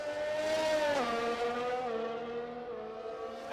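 Race car engine in an F1 video game at the Singapore circuit, a steady loud whine that drops in pitch as it brakes and shifts down through the final corners, with faint tire noise.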